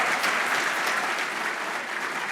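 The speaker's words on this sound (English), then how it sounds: "A round of applause for the Texas Supreme Court." Steady applause from a dinner audience honoring the Texas Supreme Court justices at a formal banquet, a dense even wash of many hands clapping throughout with no talk over it.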